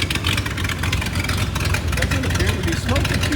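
A 1978 Ford F250 truck engine, parked for over 20 years, idles with a steady low rumble, close and continuous with no revving.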